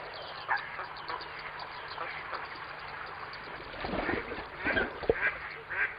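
Waterfowl call from a reed bed where they nest, scattered honks and quacks rising over a steady outdoor hiss, growing more frequent toward the end with a narrator's voice running beneath them.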